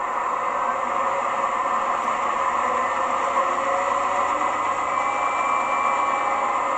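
A DCC sound-equipped model Class 68 locomotive runs in electric train heating mode, where the engine drives the generator as a new idle. It gives a continuous, even, hissing drone at constant loudness throughout, with no speech.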